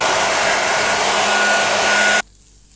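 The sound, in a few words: hair dryer drying rolled-up hair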